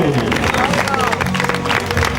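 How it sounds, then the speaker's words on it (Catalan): Crowd applause at a Catalan mountain bike championship ceremony, with clapping mixed under a voice speaking over a loudspeaker, loud and continuous. "Gallon, campions de Catalunya de la BTT, un fort aplaudiment, sisplau."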